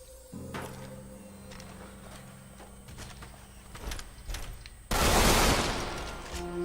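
Automatic weapons firing in Deadfall Adventures: a string of sharp, close shots over a humming background, followed near the end by a sudden loud roaring crash and a rumble, with no talking.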